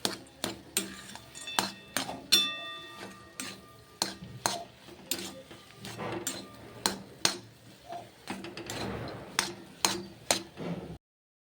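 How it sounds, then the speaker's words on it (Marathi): A spoon repeatedly scrapes and clinks against a pan while semolina sheera is mixed with dry fruits and cardamom powder, giving a steady series of sharp metallic taps and scrapes, close and fairly quiet, with no voices. "व्यवस्थित मिक्स करून घेऊयात हे।"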